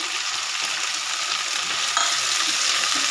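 Cumin, ginger and chili paste sizzles loudly with potatoes in a pan, a steady dense frying hiss with faint stirring scrapes, close and continuous with no talk.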